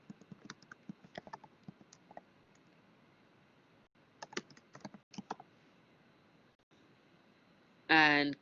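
Quick bursts of clicky computer keyboard typing as a file name is entered, soft and close, in two short runs separated by pauses, ending with a brief louder sound at the end.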